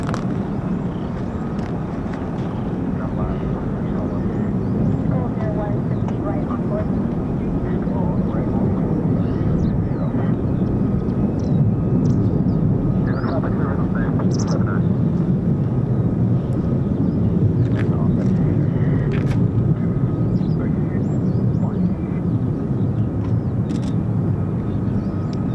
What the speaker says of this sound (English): More F-35s.